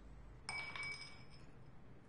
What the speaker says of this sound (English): And the glass doesn't even smash.